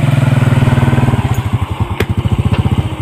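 Motorcycle engine running close by at a checkpoint, a steady idle thrum with regular low pulses that shift slightly as it is parked, with a brief thump and short clicks near the end.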